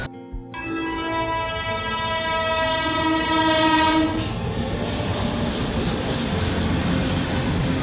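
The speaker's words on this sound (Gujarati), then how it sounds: "રેલવે ગાડી આવે છે." A train rolls through a railway level crossing, loud and close, its horn sounding over the steady rumble and clatter of the wagons, with no voices.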